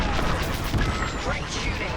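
Starfighter weapons fire in the Star Wars: Squadrons space combat game comes as a dense, continuous barrage of blasts and booms, loud and close, with no pause between shots.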